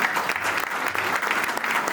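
Guests at a festive event in the Hôtel Métropole Monte-Carlo applaud the hotel staff, a dense, even patter of many clapping hands, moderately distant and steady for a couple of seconds.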